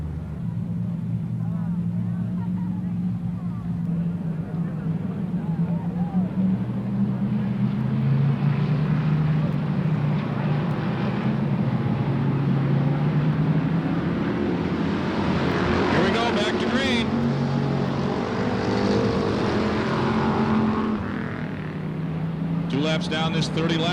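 Race cars circling a raceway track at Silver State Raceway during a 1994 open competition under caution, engines droning steadily at a distance with rising and falling pitch, under an announcer's continuous commentary.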